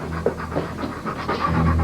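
A dog pants rapidly and loudly up close in quick rhythmic breaths for a couple of seconds.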